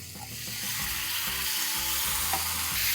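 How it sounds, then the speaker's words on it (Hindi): Marinated chicken for a South Indian Chicken Chettinad curry hits a hot pan, a loud close sizzle that swells and holds steady to the end, with no voices. "अब डालेंगे मैरिनेट किया हुआ चिकन।"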